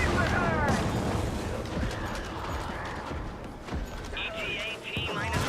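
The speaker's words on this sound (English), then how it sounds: "Hoping that my rail cannon can take care of that Hulk there." Rail cannon fire in a video game combat match, heavy booming blasts and crashing impacts over a dense, continuous battle din, with a voice talking over the action.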